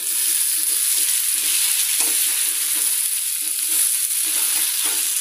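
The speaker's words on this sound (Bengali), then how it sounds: "পেঁয়াজটা ভাজা ভাজা হয়ে গেছে" Onions frying and being stirred in a pan on a home stove, a steady loud sizzle throughout with soft scraping strokes of the spoon at intervals, no talking.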